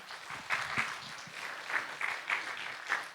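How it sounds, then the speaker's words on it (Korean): A church congregation at a Friday worship service claps to welcome a missionary speaker, a soft, fairly distant patter of applause with a few sharper clap peaks and faint voices underneath. "선교사님 나오실 때 박수로 맞이하겠습니다"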